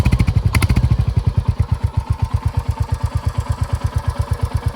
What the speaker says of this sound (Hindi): ये इसका थोड़ा रैप करने पे थंप है।